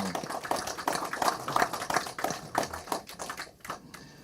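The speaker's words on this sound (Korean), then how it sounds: "이동복 대표님께 다시 한번 감사의 박수 한번 주십시오." Scattered, light clapping from an audience at a Korean book launch event, sparse individual claps rather than a full ovation, fairly faint and thinning out toward the end.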